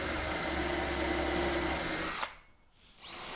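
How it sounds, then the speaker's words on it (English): A power drill drilling countersinks in wood whines steadily at close range, then cuts off abruptly, leaving a brief near-silence before the motor spins up again. "now I'll drill my countersinks on the back"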